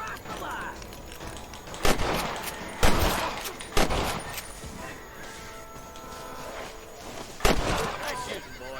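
Gunfire in the video game Red Dead Redemption: several sharp, loud shots ring out irregularly, a few seconds apart, over a busy background with faint horse sounds.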